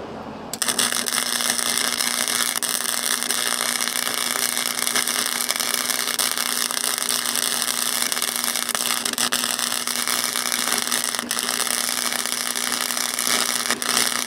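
Chicago Electric Flux 125 flux-core welder laying a bead on rusty steel, a loud steady crackling hiss that runs continuously for the whole stretch with no talking.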